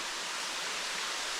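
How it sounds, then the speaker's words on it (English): A waterfall on a jungle stream in Tahiti roars with a steady, dense hiss of falling water, close and unbroken. "So this waterfall here,"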